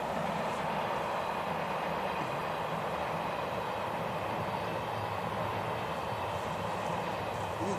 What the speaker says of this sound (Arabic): قطار يمر،